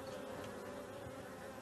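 Honeybees buzz in a soft, continuous hum that is faint and steady throughout, with no voices.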